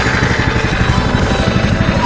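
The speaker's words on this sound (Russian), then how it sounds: "включаем наш пламенный мотор, заводим, а он уже готов" Engine of a narrow-gauge railway vehicle on the Alapaevsk line idling just after start-up, a loud, steady low rumble with an even mechanical throb, heard close and alone.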